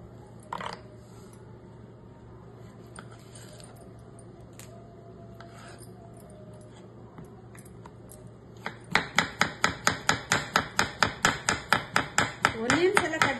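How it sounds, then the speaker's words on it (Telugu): A knife chopping cucumber on a board, starting with a few scattered taps and then breaking into a fast, even run of crisp close chops, about two to three per second. "ఆనియన్స్ ఎలా కట్ చేశాను అదే సైజులో కీర కూడా కట్ చేస్తున్నాను."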